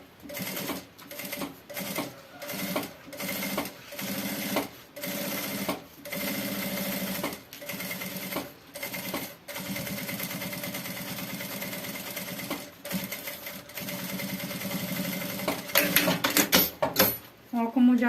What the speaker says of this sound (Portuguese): Vou fazer uma costurinha de segurança em toda a volta.